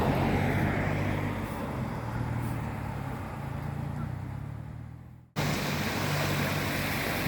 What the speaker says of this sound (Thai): ฟังเสียงคลื่นซัดชายฝั่ง